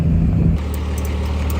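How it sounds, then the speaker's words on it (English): A Ford F250 truck drives home towing a roughly fifty-year-old truck, giving a steady low road rumble with wind noise that grows louder for the first half second and then settles into an even drone. No one talks. "Driving home now."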